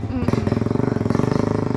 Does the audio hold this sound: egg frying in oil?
no